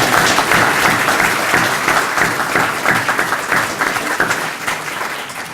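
A homecoming awards crowd gives a sustained round of applause, steady dense clapping that fills the room and slowly tapers off toward the end, with no voices above it.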